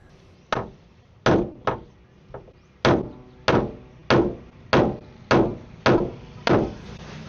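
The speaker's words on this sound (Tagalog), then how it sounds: "Pinukpok ko na nga ng ilang beses para mapihit pero ayaw na talagang kumapit itong aking screwdriver." A rusted, stripped screw on an old van door handle is struck with sharp, close hammer blows, about ten hits in an irregular rhythm, each followed by a short ringing decay, with no speech.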